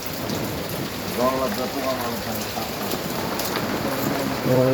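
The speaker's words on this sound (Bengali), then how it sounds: "এখানে বৃষ্টিতে পানি ভরে যেতেছে ডুবে যাবে রাস্তাঘাট" Steady heavy rain pours down continuously in a village, flooding the roads, with a brief voice briefly audible beneath the dense downpour.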